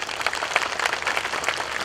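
Dense applause from an audience at a Thai political rally for the Bhumjaithai party, a continuous wash of many hands clapping, loud and close throughout.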